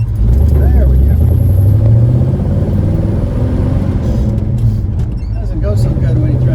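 A car engine labours and lugs at low revs while pulling away in third gear, a loud, uneven low rumble that strains throughout with little rise in pitch.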